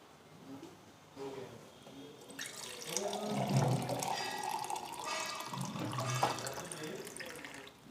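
Water runs from a tap into a container at close range, a rushing, splashing stream that swells and rises in pitch over several seconds as the vessel fills.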